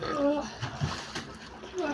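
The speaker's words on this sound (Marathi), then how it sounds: "आणि हा आमचा अभिषेक मस्त पाण्यावर तरंगत आहे." Water splashes lightly as a person floats in a pool at a farmhouse, a few soft sloshes and splatters close by, with voices talking over the sound.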